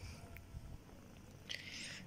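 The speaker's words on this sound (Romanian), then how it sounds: "Toarce pisoiul, toarce pisoiul" A kitten purrs softly and steadily at close range in a quiet room, with a faint rough rumble and a little background noise.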